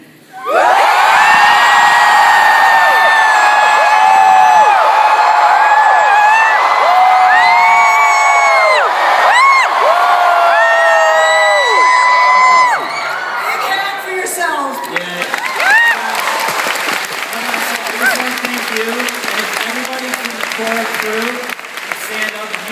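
A Comic Con panel crowd bursts into a huge roaring cheer, loud sustained whoops and high shrieks from many voices for about twelve seconds, then settling into clapping and scattered shouts that carry on to the end.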